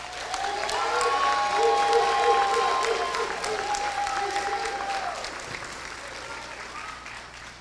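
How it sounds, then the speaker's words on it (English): At a high school graduation ceremony, the audience breaks into warm applause with some cheering and whoops, building in the first seconds and then slowly tapering off as the clapping thins. "Please give a warm round of applause and congratulations to Miss Chinera"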